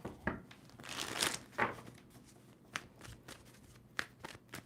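Tarot cards being shuffled by hand, a few riffling, crinkly bursts of card noise with short pauses between, close and fairly quiet, no talking.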